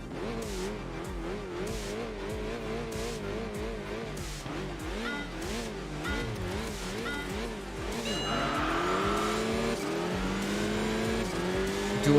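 A Peugeot and a Mitsubishi Lancer race each other on a mountain road in Enthusia Professional Racing, their engines revving up and down through gear changes with rising pitch, growing louder and harsher near the end.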